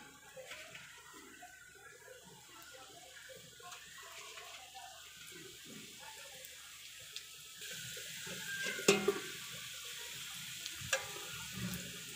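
Pitha, a Bengali rice cake, frying in hot oil: a faint, steady sizzle throughout, with a few brief clatters of handling near the end.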